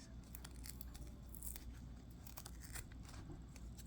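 Quiet snipping and crunching of scissors working through sticky adhesive, with small rapid cuts and tearing sounds over a low background hum.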